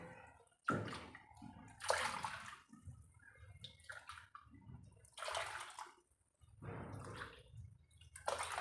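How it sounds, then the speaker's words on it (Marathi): Water poured into a pot while preparing rice flour papad, coming in several splashing bursts with short pauses between them, close and fairly quiet. "परत आपण पाच वाट्या पाणी टाकून घेऊया"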